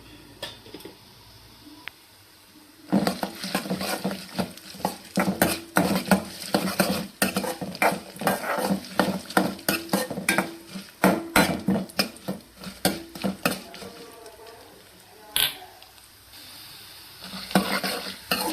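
A spoon scrapes and clatters against a pan as cashews and dal fry in hot ghee with cumin, pepper and turmeric for semiya pongal, dense repeated metallic strokes with a quiet sizzle between them.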